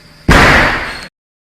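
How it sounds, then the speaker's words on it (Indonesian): An anime hydrogen-oxygen gas balloon bomb goes off in a single loud, sudden blast that booms for under a second, then cuts to silence. "Jadilah bom berkekuatan lemah, namun menimbulkan suara ledakan yang keras."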